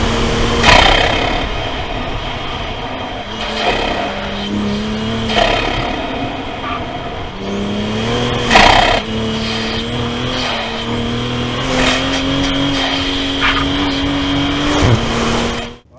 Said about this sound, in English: You get all the fun intake noises.